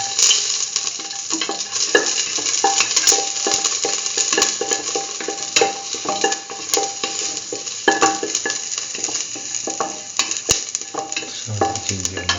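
Garlic frying in a pan for a curried mustard okra stew, a steady close sizzle with scattered stirring and utensil clicks throughout, no talking.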